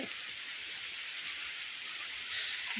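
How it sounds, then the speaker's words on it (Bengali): Heavy rain pours outside a shop at night, a soft steady wash of falling drops and splatter heard from nearby. "দেখতে পাচ্ছ কেমন বৃষ্টি হচ্ছে"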